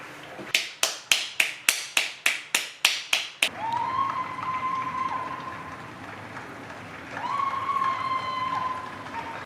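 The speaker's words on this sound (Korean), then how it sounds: "벌써 8시 돼서 박수 쳐야 돼요." Nine or ten sharp, evenly spaced claps ring out close by, then a distant, diffuse wash of neighbours clapping during the 8 pm quarantine salute in Paris, with faint whistles or tones above it.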